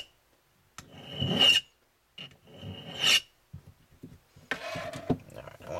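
Metal file rasping on a paintball gun's aluminum slider frame, stripping plating down to bare metal: several separate bursts of scraping strokes, close and crisp, with short pauses between them.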